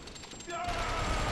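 Rapid machine-gun style gunfire in Bloodborne, a dense burst of shots from an enemy that swells louder about halfway through, with game effects and a faint voice mixed in.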